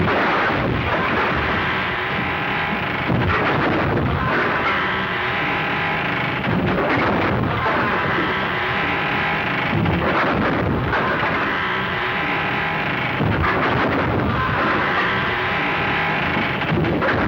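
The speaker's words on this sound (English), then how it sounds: "Firing at him from the window." Sustained volley of gunfire from a window in a 1935 western film, with loud, dense shots and booming reports repeating in waves across the whole stretch, no voices over it.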